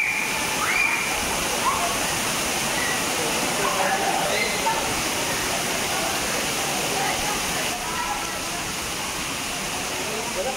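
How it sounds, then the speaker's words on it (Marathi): A waterfall pours down from above near caves on a trek up Rajamachi fort, a steady broadband rush of falling water filling the whole stretch, with faint voices mixed in. "धबधबा वरून येणार पाणी"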